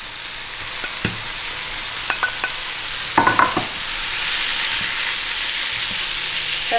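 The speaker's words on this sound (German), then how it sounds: "So, jetzt tue ich den Bacon rein." Small cut pieces of bacon fry in a pan over moderate heat, a steady close sizzle broken by a few sharp clinks and scrapes of a utensil stirring, with no talking.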